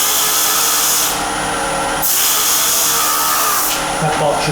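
Power sander working the surface of a natural-edge wooden vase on the lathe, moving through sanding grits: a loud, continuous whirring drone with brief dips where the tool lifts off, close by.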